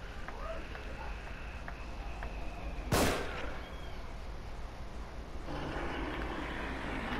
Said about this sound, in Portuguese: Tentar dar um tiro daqui, bem no coco para ver.